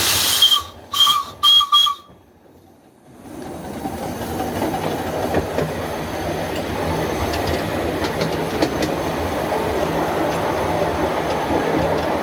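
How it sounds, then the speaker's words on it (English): The Mazeppa steam locomotive gives three short, sharp whistle blasts at a quiet station, followed by a pause and then a steady, loud hiss of escaping steam that continues to the end. "Of course, we do have a whistle."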